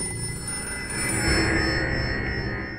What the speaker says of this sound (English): Don't answer the phone. Answering the phone can't never be a good idea. No, just let it ring.